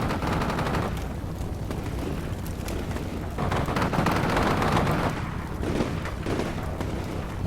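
Gunfire during an ambush in the war game Shock Force 2, with Dutch peacekeepers under attack in Syria: continuous crackling rifle and machine-gun fire, with heavier booms swelling and fading through the sustained battle, no talking.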